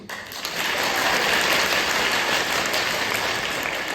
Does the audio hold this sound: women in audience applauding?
yes